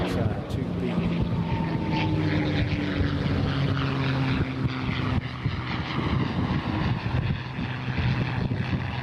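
A Harvard 2B propeller aircraft at an airshow drones overhead with a steady engine roar and shifting pitch, while an announcer talks over it throughout.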